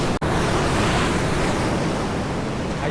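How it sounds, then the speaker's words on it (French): Ocean surf breaks over a reef off Madagascar, heard from a schooner on a fishing expedition as a steady, loud roar of waves mixed with wind buffeting the microphone. "Oh la vague!"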